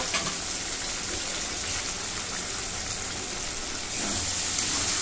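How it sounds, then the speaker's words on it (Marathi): Tomato paste with a piece of beetroot fries in oil for pav bhaji, giving a steady, close hiss of sizzling that swells slightly louder near the end. "आता टोमॅटो चांगला भाजून घेते, तेल सुटेपर्यंत भाजून घेते."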